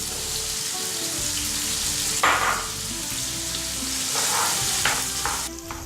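Peppers fry in a large sauté pan with a loud, continuous sizzle and crackle, broken by a few brief scrapes and stirs.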